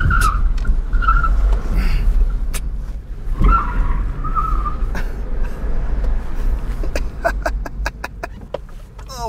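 An all-electric MINI Cooper SE driven hard, its tires squealing and skidding in sharp bursts over a steady rumble of road noise, with a run of quick clicks near the end.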